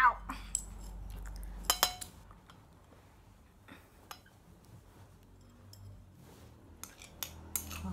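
Instant Korean spicy noodles, drained and dressed with two spoonfuls of water, mixed in a bowl with utensils, giving sharp metallic clinks and scrapes in scattered bursts against quiet pauses.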